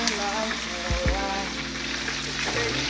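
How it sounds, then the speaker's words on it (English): Chicken wings bubble in a deep fryer with a continuous soft sizzle and hiss, steady and close, with a couple of brief low thumps partway through. "how they're coming along so far as they cook in a deep fryer"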